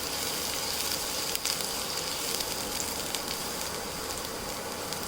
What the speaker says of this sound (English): Saute the garlic well, cook it nicely.